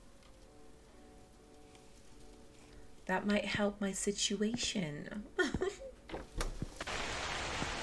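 Rain in a convenience-store horror video game starts abruptly after a quiet stretch with a person talking, then pours loudly as a dense hiss, with speech continuing over it.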